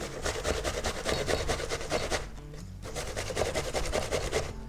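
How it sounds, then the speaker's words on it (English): Apples being grated by hand for muffin batter, a steady rhythmic rasping of strokes that runs continuously, pauses briefly, then carries on close and fairly loud. "now we're grating nicely"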